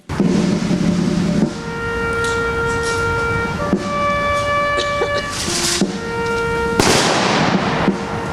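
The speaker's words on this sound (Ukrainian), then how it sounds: "Пам'ять загиблих бійців шанували хвилиною мовчання та пострілами у небо." Several loud gunshots of a memorial salute fired into the sky in Kropyvnytskyi, Ukraine, crack out at intervals over a sustained wailing siren, the volleys sharp and close with brief echoes.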